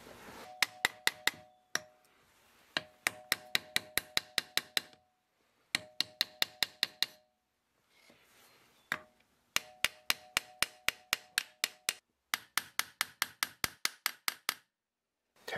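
Rapid bursts of sharp metallic taps on a part of a boat's 454 big block engine, struck in quick rhythmic runs separated by short pauses, close and clear with no talking.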